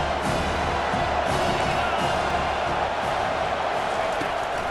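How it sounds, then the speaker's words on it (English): A stadium crowd in the College Football 25 video game roars in a loud, sustained, dense wall of cheering and yelling throughout. "This crowd knows when to bring it."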